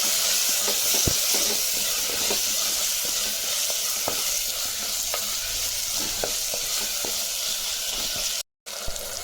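Ripe tomatoes for sambar frying over onions in a pan, a dense continuous sizzle with repeated knocks and scrapes of a stirring spoon against the metal, close up and without any voices.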